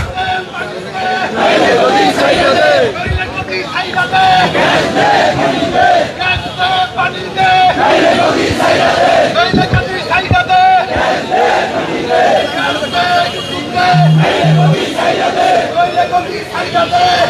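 A large outdoor protest crowd demanding gas and electricity chants slogans loudly and continuously, voices rising and falling in unison with shouted calls over a dense crowd roar.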